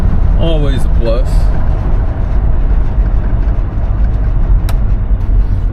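A 1972 Oldsmobile Cutlass engine runs in a steady, loud, unbroken drone with no belt squeal, and a voice speaks briefly near the start.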